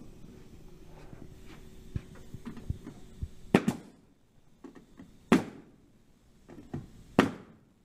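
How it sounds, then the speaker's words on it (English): A pneumatic nail gun fires nails into a board on a CNC router table: three sharp, loud shots spaced about two seconds apart, with quieter handling knocks between them. "let's nail this thing down"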